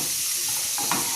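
A spoon briefly stirs buttermilk kadhi in a pot, giving a soft scrape or two over a steady low hiss of heat, close and quiet.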